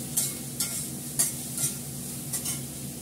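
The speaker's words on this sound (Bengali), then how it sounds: "পেঁয়াজটা একটু ভাজা ভাজা করে জিরেটা দেবো, আমরা পোড়া লেগে যাবে না।" Onion and cumin seeds frying in a pan, a soft steady sizzle punctuated by several sharp stirring scrapes at roughly half-second intervals, close and fairly quiet with no talking.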